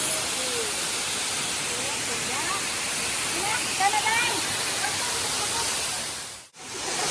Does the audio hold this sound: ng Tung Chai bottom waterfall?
yes